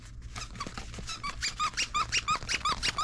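Plush Steve Austin dog toy squeaking in a quick rhythmic series of sharp squeaks, close and fairly loud, over light background noise.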